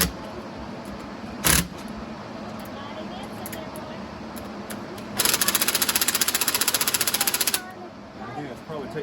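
A power tool set to medium torque drives bolts while a Kubota rear hydraulic remote is installed, giving a short sharp burst early on, then a longer rapid hammering rattle lasting a couple of seconds over a low background.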